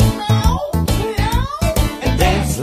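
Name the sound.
voice imitating a cat in a children's song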